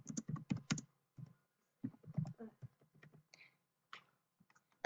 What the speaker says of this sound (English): We will say it when she's done typing.